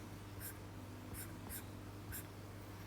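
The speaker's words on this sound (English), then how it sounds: "I write down here." Pen writing out an add maths working by hand, with several short bursts of scratching strokes at an even pace over steady low room hum, close to the microphone and with no talking.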